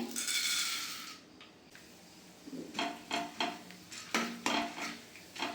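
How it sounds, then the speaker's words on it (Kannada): Chana dal and urad dal pour into hot oil with a brief hiss, followed by several sharp metallic taps and scrapes of a spoon against a pan. "ಕಡಲೆಬೇಳೆ ಉದ್ದಿನಬೇಳೆ ಹಾಕ್ತಾಯಿದ್ದೀನಿ"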